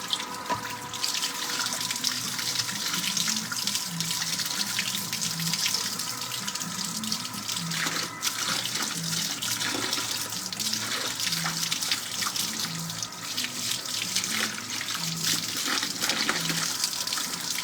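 Tap water runs steadily into a sink, a continuous near hiss and splash, with faint background voices or music underneath.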